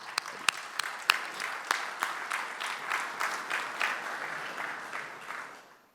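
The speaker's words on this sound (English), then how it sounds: "a round of applause for everybody sitting on the dais." Audience applause at a media and entertainment conference inauguration, honoring people seated on the dais: a few sharp early claps swell into steady, moderately distant clapping that fades out over several seconds.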